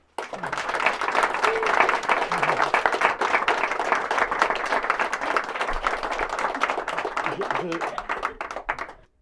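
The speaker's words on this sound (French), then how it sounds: "Je voudrais donc que l'on applaudisse, s'il vous plaît, et Jackie et Océane" An audience applauds the weavers Jackie and Océane at the ceremonial cutting of the "Les licornes à la baignade" tapestry from the loom, sustained dense clapping lasting about nine seconds with voices mixed in, then fading out at the end.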